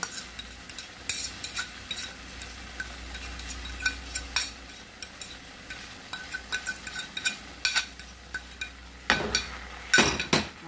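A spoon stirs a banana and dark demerara sugar mixture cooking in a pot on the stove, with soft sizzling and repeated scraping and clinking against the pan at a close, moderate level.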